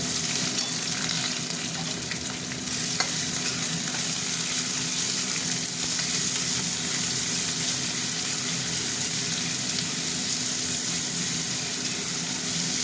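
Sliced onion frying in hot oil for a chicken curry, a steady dense sizzle that runs unbroken and fairly loud throughout, with faint stirring scrapes and no talking.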